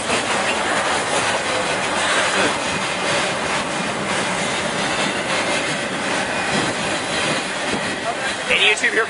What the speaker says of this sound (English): believe here comes the end of this freight.